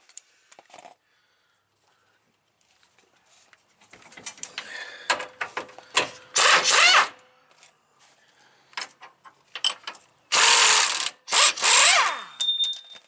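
Wrench ratcheting in bursts while new leaf springs for a 2022 Toyota Tacoma go onto a 2011 Tacoma, with loud clicking runs among quieter metallic handling and pauses.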